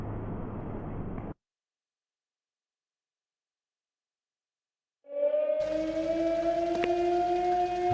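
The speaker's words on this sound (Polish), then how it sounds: "Syreny alarmowe zawyły." An air-raid siren in the WWII video game Stroke of Fate: Operation Valkyrie begins a loud, steady rising wail that carries on to the end, after a brief noisy burst and a stretch of silence.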